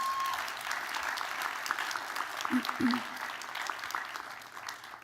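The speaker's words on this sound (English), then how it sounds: "she deserves a round of applause" A room full of people applauds steadily at an academic awards ceremony, a dense patter of clapping that swells briefly and then tapers off.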